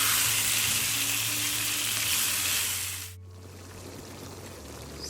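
Shrimp and seasoning sizzle and fry loudly in a pot, a steady broadband hiss with a low hum underneath, then the sizzle suddenly drops to a quieter simmer partway through.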